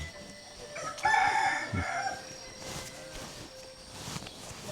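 A rooster crows over clucking chickens in a village coop, the calls carrying clearly against a quiet outdoor backdrop with a few soft footsteps.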